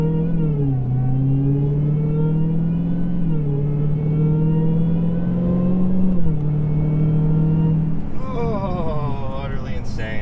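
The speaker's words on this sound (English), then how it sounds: "We're gonna get you some exhaust revs." Loud 2022 Dodge Challenger Hellcat Redeye engine revs repeatedly, its deep pitch rising and falling in long pulls, up close, ending in a higher roaring burst.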